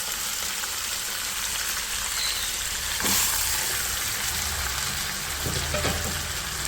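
Marinated chicken fries in a garlic-ginger masala, crackling and sizzling steadily up close, with brief stirring noises mixed in.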